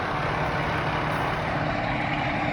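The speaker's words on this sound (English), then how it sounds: "So this is our fire truck." A 1982 Mack fire truck idles nearby, a loud, steady diesel rumble with broadband engine noise holding constant throughout.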